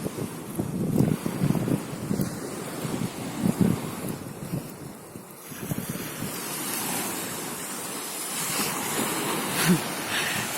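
Sea waves wash ashore at night with the tide rising, a steady broadband surf roar mixed with gusting wind buffeting the microphone, continuous and fairly close throughout with no talk.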